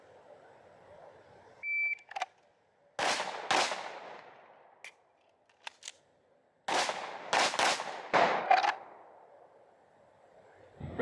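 Pistol fired during performance training, sharp loud shots in irregular bursts with short gaps, a shot timer beep near the start, outdoors with faint background between strings.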